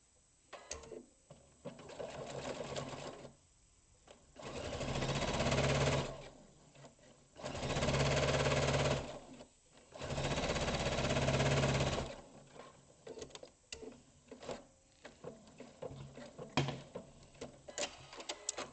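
Sewing machine stitching a quarter-inch seam across pre-cut cushion fabric in three steady bursts of a few seconds each, with quiet pauses and light handling between runs.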